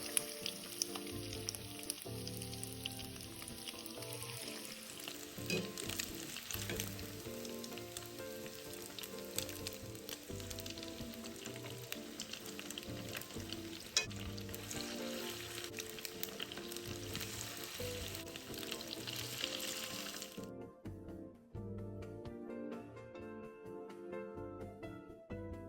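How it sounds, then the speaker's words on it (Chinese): Tofu and shrimp batter balls deep-fry in oil with a dense, even sizzle and crackle that runs steadily, then thins out and turns to scattered pops near the end. "接着再继续挤入豆腐面糊，油炸过程中面糊不会粘连"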